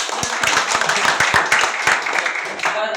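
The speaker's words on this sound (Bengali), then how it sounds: "লিডারের জন্য একটা করতালি দেন" A seated audience at a DXN business meeting claps for their leader, with sharp individual hand claps standing out from a fairly loud, busy round of applause that carries on throughout and thins slightly near the end.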